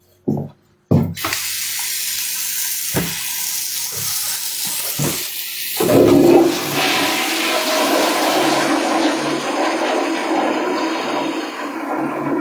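A business restroom toilet flushes with a sharp click, then a sustained loud rush of water that swells and keeps running steadily to the end, close and without talking.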